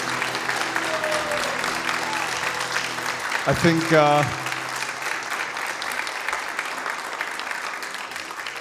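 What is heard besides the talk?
audience applause for Sri Radha Raman Dasa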